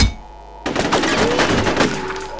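Gunfire in F.E.A.R. starts abruptly after a quiet moment, a loud close volley of shots with ringing debris and metallic ricochet tones trailing across the rest.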